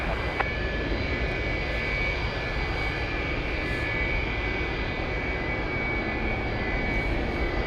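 Jet aircraft engine roaring at Anchorage airport on a windy day, a loud, steady, continuous whine and rumble throughout with no talking.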